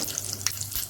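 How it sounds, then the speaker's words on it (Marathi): Mustard seeds, cumin and dried red chillies tempering in hot oil give a faint, steady crackling sizzle with a few sharper pops, close by and without any talk. "तेल तापले, त्यामध्ये मोहरी, जिरं, सुक्या लाल मिरच्या."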